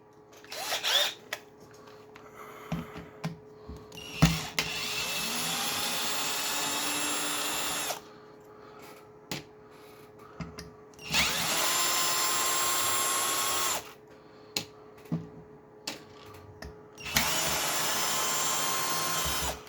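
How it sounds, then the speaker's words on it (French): A power drill unscrews screws from a Traxxas E-Maxx brushless RC car. It runs in several loud whirring bursts of a few seconds each, with clicks and handling noises in the pauses between them. "pourquoi je me sers d'une perceuse?"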